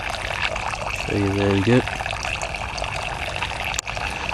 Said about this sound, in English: it should be a constant stream like that, not a drip, drip, drip or anything like that